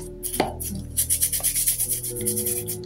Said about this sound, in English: And I just gently scrub with this. This is a soft bristle old toothbrush that I had.